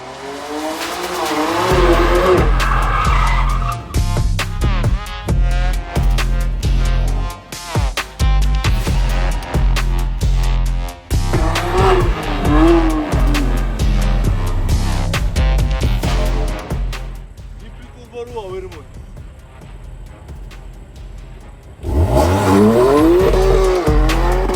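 A BMW M4 drifts hard, its engine roaring and revving loudly as the tires squeal and skid in long sweeping bursts, easing briefly before surging again.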